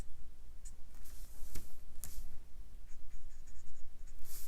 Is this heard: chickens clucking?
no